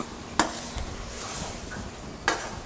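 Egg fried rice being tossed in a wok at a Kolkata street food stall; two sharp metallic clanks of the pan stand out over a steady hiss and scraping of stirring, close and fairly loud.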